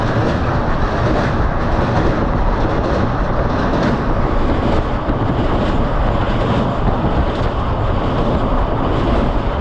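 Begampura Express passenger train rolling along after leaving Jammu, a loud continuous rumble and rattle of wheels and carriages with wind noise, steady throughout and no voices.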